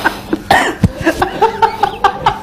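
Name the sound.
cough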